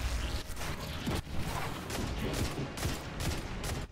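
Rapid gunfire from the video game Destiny 2, a dense run of loud overlapping shots and mechanical clatter with no pauses.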